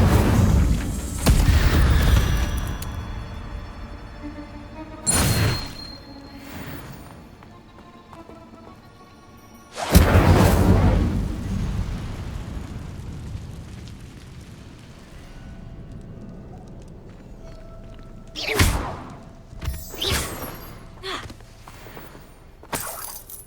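An Incendio fire spell is cast repeatedly in the Hogwarts Legacy video game, each cast a sharp, loud whooshing burst with a fiery roar, several blasts separated by quieter stretches of ambient game sound.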